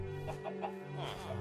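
Chickens clucking in the Minecraft Regrowth modpack, a few short soft clucks repeating at a steady pace over a constant low game hum, fairly faint.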